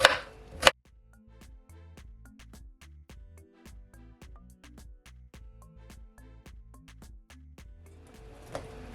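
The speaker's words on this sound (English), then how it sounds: "So I'm gonna start off by cutting my pineapple" A knife chops fresh pineapple into small pieces on a board, with steady, evenly spaced close cuts following a sharper knock at the start.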